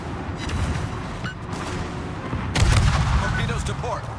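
Warship guns in World of Warships fire armor-piercing shells in low-tier cruiser and battleship play, with deep booms rolling through the clip and a heavier blast near the middle, amid busy game noise.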